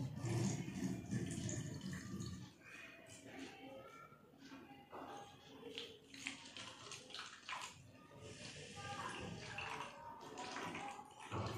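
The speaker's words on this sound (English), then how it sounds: "Now we are going to put water in it." Water pours steadily into a plastic bottle with a hollow gurgling splash, close and continuous, for a homemade fingertip fountain.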